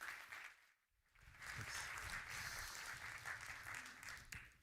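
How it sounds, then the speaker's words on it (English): Audience applause for a speaker being introduced at a creator-economy and innovation conference, rising after a brief lull into steady, dense clapping from a large crowd that holds for several seconds. "round of applause for Tom Keane."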